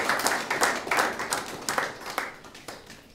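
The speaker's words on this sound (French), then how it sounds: "Acclamation nourrie et respectée" Applause at a political party general assembly in Congo, with many hands clapping in a lively, slightly rhythmic patter that tapers off toward the end.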